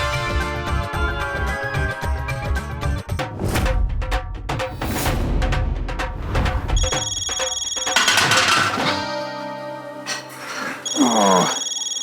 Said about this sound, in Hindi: सोडी पाजी का फोन